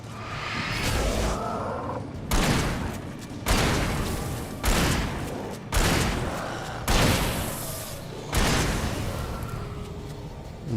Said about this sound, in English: with a friggin' pump action shotgun now, I can actually fire a lot more